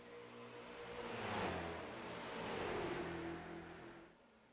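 A street stock race car on an oval track holds full throttle, its engine roaring as it swells past and then fades into the distance.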